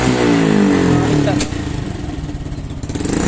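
Honda Wave 125 motorcycle engine revving at half throttle, a steady loud mechanical drone that eases slightly partway through, heard up close in a workshop.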